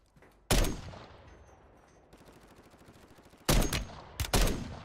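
Bursts of automatic gunfire from the Warzone 3 video game, a loud volley near the start, a quieter rapid rattling run in the middle, then several more sharp bursts near the end, with no talk.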